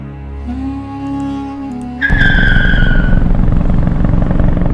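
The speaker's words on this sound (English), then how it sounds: "It wasn't easy to land an aeroplane in the desert." Cartoon aeroplane engine droning with a rising whine, then a loud rough scraping skid as the plane lands in desert sand, continuing noisily to the end.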